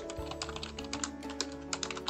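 Fingers tap quickly on a computer keyboard, a quiet, close run of irregular clicks with no talking over them.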